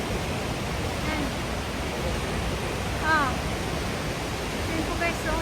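Gorogataki Falls, a large waterfall in Yamato, Kumamoto, pours as a steady, broad rushing roar that fills the whole span, with faint voices now and then under the water noise.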